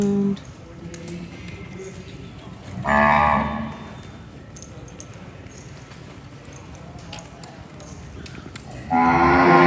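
Cattle mooing at a winter livestock show for Gray calf females, two loud, long bellows spaced several seconds apart over a murmuring arena background.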